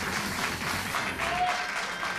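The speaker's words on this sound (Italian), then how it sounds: "Prenditi l'applauso dei tuoi amici che sono venuti a trovarti, della tua ragazza" Audience applause at a 2015 coffee show for barista Domenico Fichera, a steady wash of clapping from a moderate crowd at close range.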